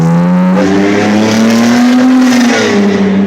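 A car engine revs hard and loudly, holding a strong roaring drone that rises and falls in pitch over a few seconds, close and continuous.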